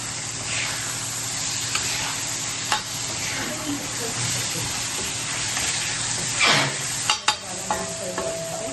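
Tomatoes go into a frying pan and are stirred, giving a steady broad sizzle with scraping stir strokes and a few sharp clanks near the end, close and loud with no talking.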